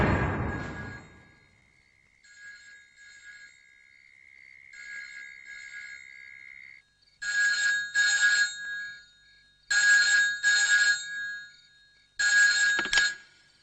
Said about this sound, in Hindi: Just dial the number and find out, that's all.